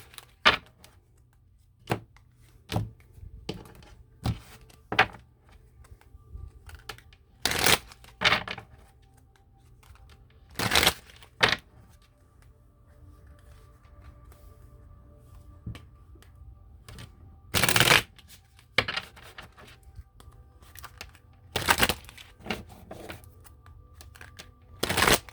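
Tarot cards from a Flint Tarot deck shuffled in short, sharp riffling bursts, separated by quiet gaps with a faint background hum, close and fairly loud.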